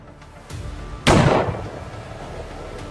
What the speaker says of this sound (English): he pulled the trigger.